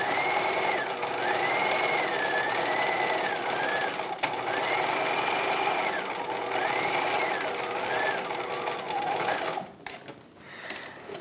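A sewing machine runs in long steady bursts while edge stitching boning channels on the lining of a 1950s halter dress, its fast mechanical whir pausing briefly between passes before a short stop near the end.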